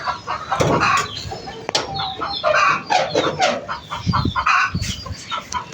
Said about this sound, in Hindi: मुर्गियों ने मचाया बहुत ज़्यादा शोर